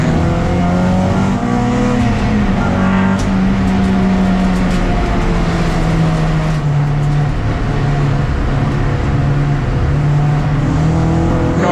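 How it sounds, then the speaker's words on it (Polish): Race cars, including a Renault Clio, run loud and close at the Mettet circuit in Belgium, with steady engine drone and shifting pitch that rises and falls as the cars accelerate and pass. "Janik jedzie, Janik i Clio go goni"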